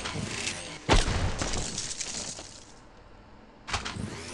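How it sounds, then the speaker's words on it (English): Freeze gun blasts in the horror game Ice Scream 8, a loud sharp burst near the start with a lingering crackly tail, then a second burst near the end, under game noise. "I'm going to break you into a thousand little pieces with this little freeze gun here!"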